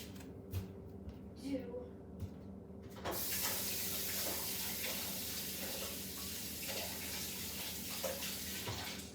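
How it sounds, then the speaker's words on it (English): Tap water runs steadily into a sink while hands are washed, a broad continuous rush starting a few seconds in and holding to the end, preceded by brief faint voices and small handling noises. "So I'm gonna go wash my hands."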